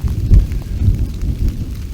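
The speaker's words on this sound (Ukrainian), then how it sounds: "А отака гроза." Late-autumn thunderstorm outdoors in November, with low rumbling thunder rolling continuously under steady rain, heavy booms swelling near the start and middle of the clip.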